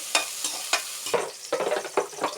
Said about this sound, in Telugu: సన్నగా తరిగిన ఉల్లిపాయలు అవి బాగా డీప్ ఫ్రై అవ్వాలి.